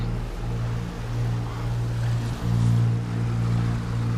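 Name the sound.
sailboat leaving the marina dock at Palmas Del Mar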